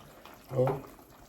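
Water is poured into chicken curry cooking in a pan, a short splashing gush that swells and fades within about half a second, fairly quiet.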